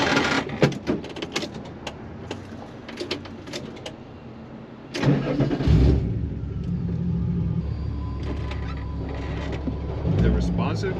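A Volkswagen Rabbit with a 3.6 VR6 engine cranks and catches partway through, then settles into a steady low idle rumble, with people talking and some birdsong nearby.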